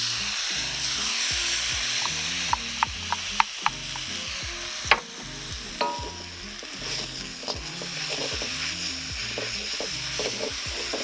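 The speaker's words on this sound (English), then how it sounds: "Let that cook for about 30 seconds, and then we drop in the sauce." Sauce poured into a sizzling pan of black pepper chicken lo mein, a constant loud frying hiss with sharp clicks and knocks of utensils against the pan, and a brief louder splash partway through.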